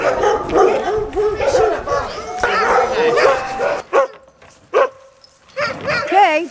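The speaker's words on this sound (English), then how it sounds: "bark for the kennel." Several sled dogs bark and yip in overlapping bursts in a kennel, fairly close, with whimpers and a person's voice mixed in; short pauses between barking spells.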